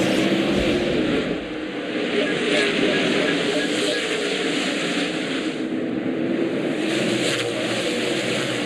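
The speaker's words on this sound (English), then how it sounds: "Green flag, and we're racing at Bristol." NASCAR race cars roaring off the green-flag start at Bristol in the 2001 Food City 500, a dense, loud engine drone from the pack that holds steady throughout, mixed with crowd noise and an announcer talking over it.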